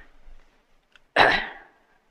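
A single short, forceful throat clearing, close and abrupt, rising out of near silence after some faint murmuring, within a religious lecture setting.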